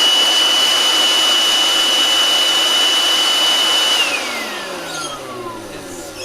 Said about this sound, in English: I'm not a big fan of the noise the Makita makes.